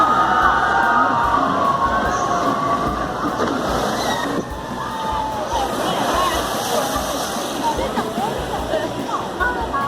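Continuous rushing water spray and splashing on a water ride at Happy Valley theme park in Beijing, loud and steady, with a lively crowd chattering and calling out throughout.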